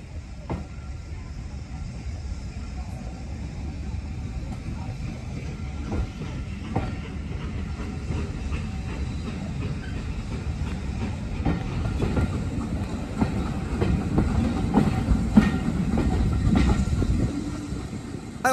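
A Great Central Railway heritage train runs along the track arriving into Rothley, with a continuous rumble and rhythmic wheel clatter heard from on board, growing heavier toward the end.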